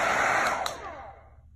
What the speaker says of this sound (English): It's just a hair dryer.